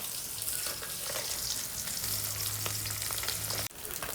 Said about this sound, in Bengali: তো মাছ ভাজা আমার শেষ